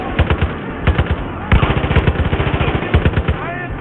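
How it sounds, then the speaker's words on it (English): Automatic gunfire in the video game Far Cry 5, loud rapid bursts of shots in quick rhythmic succession, close and punchy, with a short break between bursts. "who's shooting?"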